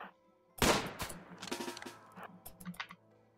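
Rapid bursts of gunfire from the video game RimWorld: a loud opening volley followed by a string of sharper shots and crackling impacts, fading into scattered pops toward the end.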